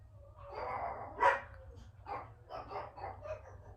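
Dogs bark several times in short, muffled bursts, one sharper yelp standing out, heard from a little distance over a low background hum.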